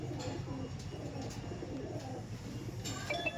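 Soft coos from an Iranian breed pigeon repeat in low, rolling phrases, close and steady, with a faint background hum.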